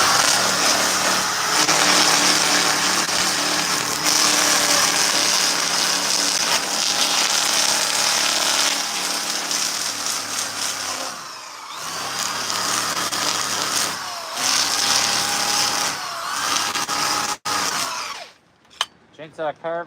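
Chainsaw carving wood: a steady, loud engine drone and cutting roar runs almost continuously, with a few brief dips where the saw eases off and a sharp break near the end.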